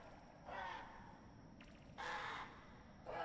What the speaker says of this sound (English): Crow army. Oh man, that's incredibly ominous. And they make such unpleasant noises.